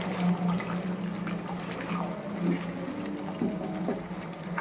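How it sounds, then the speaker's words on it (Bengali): A little water goes into a pan of frying spice paste for katla fish rezala, making a soft, steady watery hiss and bubble that stays fairly quiet throughout. "এবার এর মধ্যে আমি অল্প করে একটু জল দেব।"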